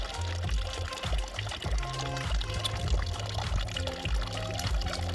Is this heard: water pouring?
yes